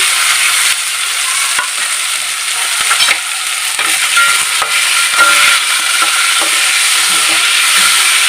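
Mixed ingredients for a coastal-style bangda (mackerel) fish curry go into a pan and get stirred. The sizzling is steady and loud throughout, with a few scraping strokes and no talking.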